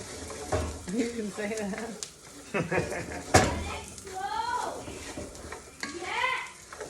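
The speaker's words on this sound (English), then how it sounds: "the rice is starting to pop and make a pop" Rice toasting in a hot pan for mushroom risotto gives a soft sizzle with scattered light pops and stirring scrapes, mostly beneath people talking nearby.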